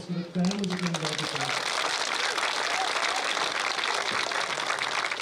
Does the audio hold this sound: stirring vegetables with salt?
no